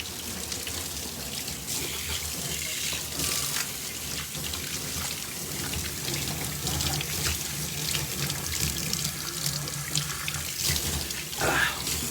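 Water runs steadily from a tap into a sink, a continuous close splashing flow that lasts throughout with no speech over it.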